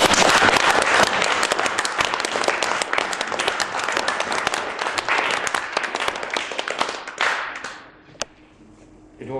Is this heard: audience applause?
yes